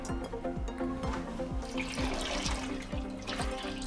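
Water pours into a pan holding washed masoor lentils for dhaba-style dal, a steady close splashing and gurgling stream that runs throughout with no talk.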